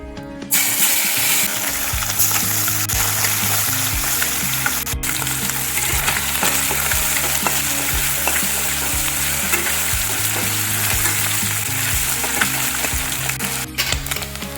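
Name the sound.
fish frying in hot oil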